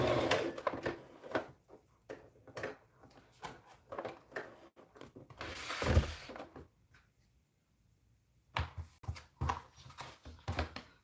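A sewing machine runs in short bursts while back stitching the ends of tiny preemie shorts, its mechanical whirring starting and stopping with clear pauses between runs.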